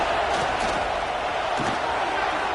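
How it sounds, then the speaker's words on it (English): Football stadium crowd at a Division 2 playoff game between Frostburg State and Johnson C. Smith, roaring steadily on third down; a dense, continuous wash of cheering voices with no break across the moment. "Decibels rising as the crowd gets behind this defense on 3rd down"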